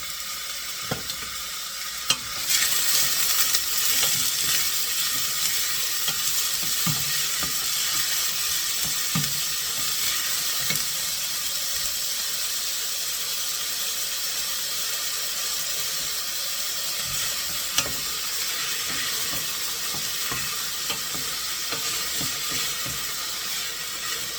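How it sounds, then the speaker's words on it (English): Food sautéing in a hot pan while cooking Kansas City sticky ribs: a steady, loud hiss and sizzle fills the whole stretch, with occasional stirring clinks and scrapes close by, no talk. "You don't want to burn these, you just want to saute these."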